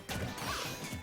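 A sharp smash hit from an up smash attack in Super Smash Bros. for Wii U, a quick crashing whack with a brief swish, heard amid busy game noise in a doubles match.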